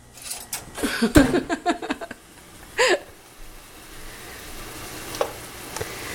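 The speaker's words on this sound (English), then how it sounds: "I just have to brown this a little bit. They're already pre-cooked sausages." Pre-cooked sausages browning in a pan: a burst of sizzling and fork clatter near the start, then a quieter, steady frying hiss with occasional pops and a person's brief vocal sounds.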